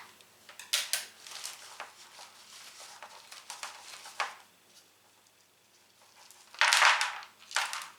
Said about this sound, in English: I'll take it out of its pot first